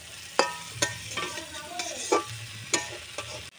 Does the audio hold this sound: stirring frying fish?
yes